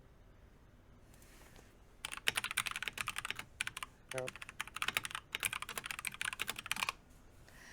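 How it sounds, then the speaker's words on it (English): Rapid typing on a computer keyboard, a dense run of close key clicks lasting about five seconds, with a brief spoken word in between. "Sorry, I was typing"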